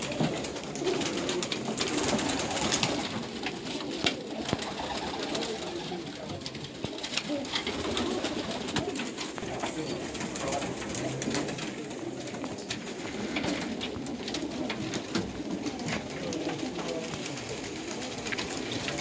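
Pigeons coo steadily and densely at a pigeon club in Baku, a continuous layered chorus of close birds with rustling around them.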